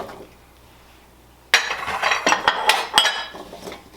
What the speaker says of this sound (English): now we're going to add our carrots.